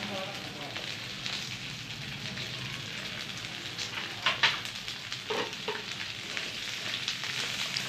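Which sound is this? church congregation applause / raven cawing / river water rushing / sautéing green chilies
sautéing green chilies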